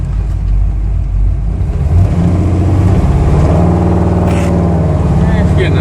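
A 1970 Chevrolet Impala with a 406 small-block V8, pinging, revs against the foot brake in a stall test, a loud close engine roar climbing and holding, with someone talking over it.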